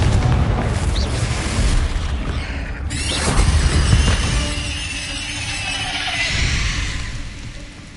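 A Confringo fire spell explodes during combat in the Hogwarts Legacy video game on hard difficulty: booming bursts rise from a dense, steady wash of game sound, with the loudest blast near the middle and no speech.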